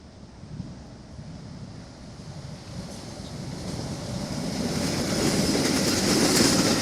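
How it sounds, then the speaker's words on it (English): A Metro commuter train comes around a curve in the distance. Its low rumble builds gradually under steady wind noise, growing louder toward the end, no voices. "I can see the glimmer of the Metro train coming around here"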